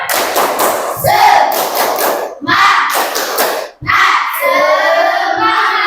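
Classroom students do the 'tepuk semangat' clapping chant as an ice-breaker: a group claps in a quick patterned rhythm, bursts of hand claps mixed with children shouting along loudly.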